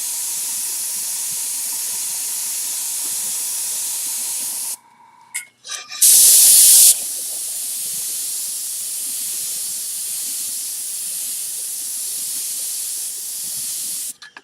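Paint sprays onto glass in a long, even, close hiss, broken by a short pause with a couple of clicks and a brief louder burst before the steady spray resumes.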